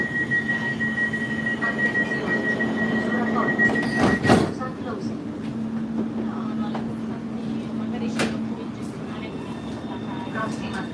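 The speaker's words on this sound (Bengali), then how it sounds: "এখন মেট্রোতে" Inside a moving metro car with passengers seated, a steady rumbling hum with a sustained tonal whine fills the space, punctuated by sharp clattering jolts, while people talk over it.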